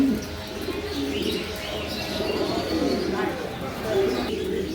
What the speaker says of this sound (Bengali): পুরো ধবধবের সাদা কবুতরটা